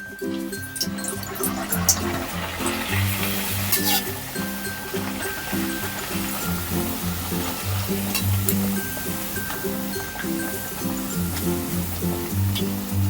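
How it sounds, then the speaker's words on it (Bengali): Chicken kachori fries in hot oil with a steady, dense bubbling sizzle that stays loud and continuous throughout, with a faint tonal hum underneath. "তেল আমার গরম হয়ে গেছে তেলের মধ্যে আমি এখন দিয়ে দেবো"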